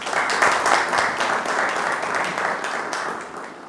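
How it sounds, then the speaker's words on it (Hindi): Enthusiastic applause from a church gathering at a Rhema Bible College event, a steady wash of many hands clapping for a few seconds before slowly easing. "तालियां।"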